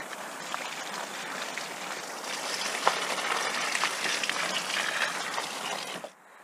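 Watering a courgette plant on an allotment, a steady splashing, trickling rush of water that continues for several seconds and then stops abruptly.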